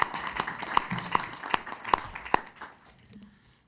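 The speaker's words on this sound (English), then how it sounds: "Let's give our panel a round of applause." A brief round of applause for a panel at a rural development council meeting in Brunswick, with a handful of distinct, evenly spaced claps standing out over a thin spatter of hands before it fades out.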